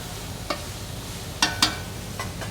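Soffritto of onions cooking in a pan for Genovese ragù, a steady low sizzle close by, broken by a few brief scraping stirs.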